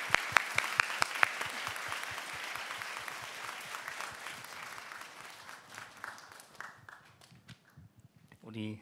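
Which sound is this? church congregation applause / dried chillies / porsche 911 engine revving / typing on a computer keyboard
church congregation applause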